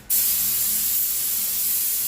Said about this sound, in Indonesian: Saya tembak semprotan kering, jadi nggak langsung hantam basah ya